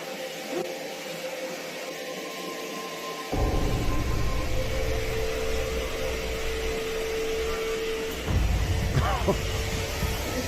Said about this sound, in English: casually vacuuming the hallway carpet